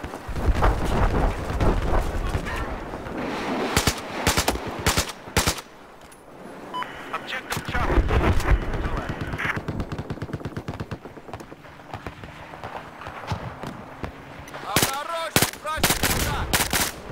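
Rapid bursts of automatic gunfire from a Battlefield 4 match, loud and close, come in clusters of sharp cracks separated by short lulls, with occasional faint voice chatter under the shooting.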